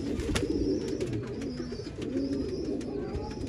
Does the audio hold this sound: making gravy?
no